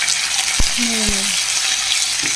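Sliced potatoes fry with poppy seeds in a pan, a steady broadband sizzle broken by two sharp clacks of a spoon stirring against the metal.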